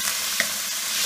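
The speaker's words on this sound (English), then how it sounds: "the pan was nice and hot, and you can hear the chicken sizzle" Steady, close sizzling and crackling of chicken searing in a hot pan, with a couple of brief clinks, no voices.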